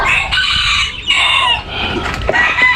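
Chickens, including a laying hen, cluck and squawk loudly and continuously nearby in a farmyard, overlapping calls rising and falling with brief louder bursts.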